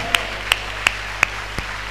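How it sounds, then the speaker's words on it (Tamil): A church congregation gives a round of slow, measured claps during a Tamil worship service, six sharp evenly spaced hand claps about a third of a second apart over a low steady hum, with no talking. "நல்ல ஒரு கைத்தட்டு கொடுங்க ஆண்டவருக்கு."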